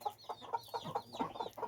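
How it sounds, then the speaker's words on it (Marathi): Several farmyard hens clucking close by in a quick run of short, rising calls, one after another, with no voices. "हे पहा, कुठं 2 नाही तर 3 कोंबड्या असते."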